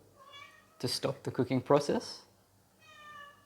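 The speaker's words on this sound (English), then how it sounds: "that's my cat" A pet cat meows softly in a kitchen where eggs are being prepared, thin tonal calls heard before and after a stretch of speech, faint and fairly close.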